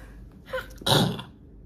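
A single close sneeze, a short sharp burst after a quick intake of breath, then quiet.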